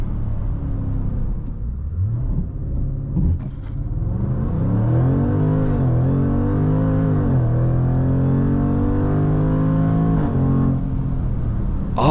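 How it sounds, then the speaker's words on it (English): A 2024 Jaguar F-Pace SVR with its supercharged V8 launches hard. The engine note climbs in repeated rising surges through the gears, loud and close, then settles into a heavy rumble. "the supercharged V8 is the highlight of the F-Pace SVR"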